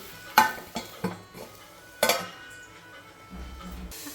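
Stuffed ridge gourd being sautéed in a pan, with a few sharp metal spatula clinks and scrapes against the cookware separated by quiet pauses, close and fairly soft.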